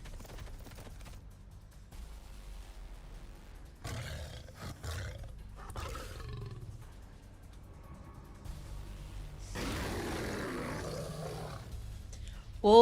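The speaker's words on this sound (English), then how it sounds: "I'm being chased by apex predators." Apex predators such as lions, wolves, cheetahs and coyotes roar in pursuit within a VTuber story, with loud bursts of roaring and a stretch of rushing noise, heard amid voices.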